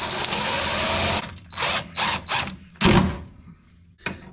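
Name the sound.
power drill driving a self-tapping screw into a car body panel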